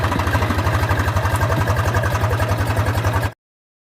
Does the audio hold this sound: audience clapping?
no